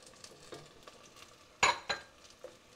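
Vegetables for a chickpea soup fry in a pot with a soft sizzle under stirring, with two sharp utensil scrapes or clinks against the pot midway and a few lighter taps around them.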